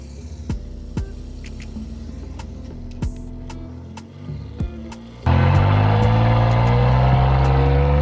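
A Platinum Ford F-150 pickup truck, backing into a lake, first gives scattered clicks and knocks over a quiet hum, then a sudden loud, sustained engine roar as throttle is applied.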